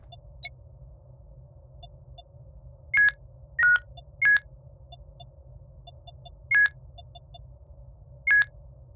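Spaceship interior in the game Voyager-19: scattered electronic beeps and short bleeps in an irregular pattern over a low steady hum, clear and close with no talk.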